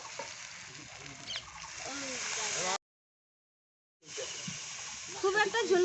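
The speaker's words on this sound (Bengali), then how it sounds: "এখন আমি দিয়ে দিচ্ছি জল" Water poured into spices frying in oil in a pan for matar paneer, a loud sizzling hiss that cuts off briefly, then resumes with bubbling crackle.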